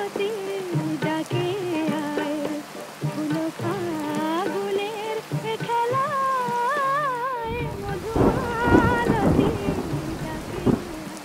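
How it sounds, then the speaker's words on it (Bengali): Heavy rain falls steadily under a melodic tune for most of the clip, then deep thunder rumbles in strongly toward the end, loud and close. "এত সুন্দর বৃষ্টি হঠাৎ করে এরকম ভাবতেই পারিনি নামবে"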